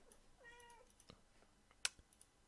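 A house cat gives one short, faint rising meow close by in a quiet room, followed by a few soft clicks or taps.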